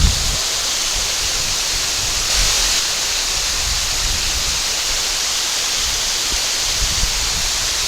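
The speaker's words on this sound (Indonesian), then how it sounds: "Air terjun Ngesong." The Ngesong waterfall on the western slopes of Telomoyo pours with a steady broadband hiss and rush, fairly loud and unbroken, with no talk over it.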